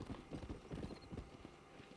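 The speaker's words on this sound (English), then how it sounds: "we're going to have our first horse race" Horse galloping in a race in the video game Red Dead Redemption, with rapid, dense hoofbeats close up and low and muffled, continuous over the whole stretch.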